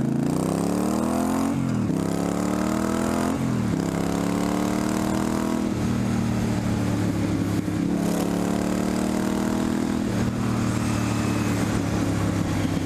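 Motorcycle accelerating hard from a standstill, engine revving up through several quick gear changes with repeated rising pitch sweeps, loud and close throughout.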